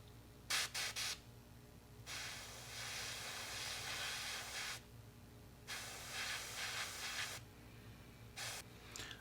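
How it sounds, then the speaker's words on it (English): Hairspray hisses from an aerosol can in three bursts, a short choppy one and two long steady sprays, with a final short puff at the end. The cans is sprayed over a plastic model cockpit. "now it's time to go ahead and apply some hairspray"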